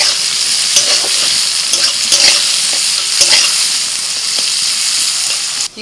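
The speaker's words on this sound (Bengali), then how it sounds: "কড়াইতে তেল দিয়ে দিচ্ছি পেঁয়াজ কুচি," Chopped onion and green chilli fry in hot oil in a wok, with a constant bright sizzle broken by repeated scraping stirs of a spatula, close and loud.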